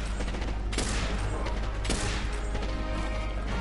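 A flashbang grenade bursting in a video game: a loud, dense blast with sharp transients that stays saturated and noisy for several seconds, with no talk over it.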